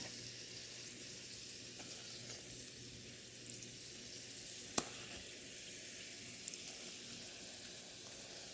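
Hotdogs fry in a pan with a steady, soft sizzle and crackle, broken by one sharp tick midway; no voices.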